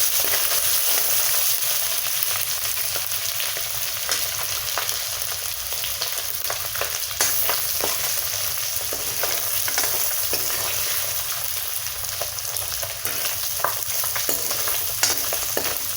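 Small fish frying in oil with salt and turmeric in a home kitchen, a steady close sizzle with occasional stirring scrapes running throughout, no talk.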